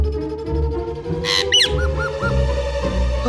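A stubborn parrot in a Tenali Rama TV drama gives a few quick, shrill squawks and chirps in the middle, heard up close over a low, steady background hum with no talking.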